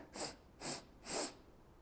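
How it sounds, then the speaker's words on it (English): Three short, sharp sniffing inhales through the nose come in a quick, evenly spaced rhythm, close and fairly soft, during a seated chair yoga breathing exercise. "The breathing is going to be a 3-part inhale through the nose"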